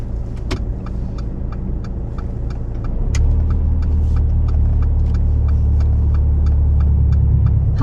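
A learner's car moves off in first gear during a driving lesson: steady engine idle, then a deeper, louder rumble from about the midpoint as the car pulls away, with faint regular ticking throughout.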